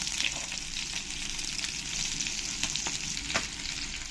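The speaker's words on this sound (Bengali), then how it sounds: "আবার একবার ভালো করে উল্টে দেবো মাছগুলোকে এবার আমি না ডেকে মিডিয়াম ফ্লেমে কিছুক্ষণ এরকম করে তেলের পরে ফ্রাই করে নেব" Koi fish fry uncovered in oil over a medium flame, a continuous close sizzle with light crackles and occasional stirring or turning sounds.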